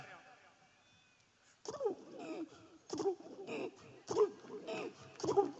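A person imitates a male pigeon's cooing with four throaty, breathy bursts spaced a second or so apart, after a quiet start.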